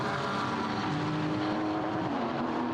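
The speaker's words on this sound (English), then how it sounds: "the sound of the exhaust popping and banging, and with the unburnt fuel" Porsche race cars at Misano roar past as they downshift, engines rising and falling in a loud, rough drone with the exhaust crackling and banging from unburnt fuel.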